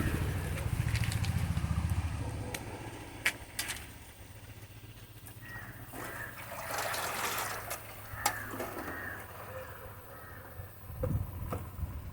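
Homemade liquid fertilizer made from vegetable waste is poured onto garden plants outdoors, a faint, soft splashing that swells briefly midway amid quiet background noise.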